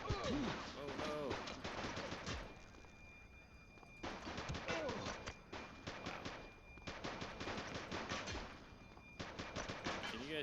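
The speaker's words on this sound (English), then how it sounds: "Shots fired!" Sustained gunfire in the police video game The Precinct comes as bursts of rapid automatic shots, loud and close, with short pauses between the volleys and voices calling out beneath them.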